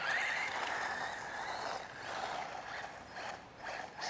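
Eachine EC30B RC buggy driving at low speed on a dry, dusty day, giving a steady whining motor hum with gear chatter that rises and falls gently as it moves, fairly close and continuous.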